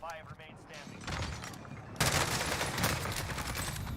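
Rapid bursts of assault rifle gunfire in Call of Duty: Warzone solos, loud and close, with a dense stream of shots in the second half after a brief voice at the start.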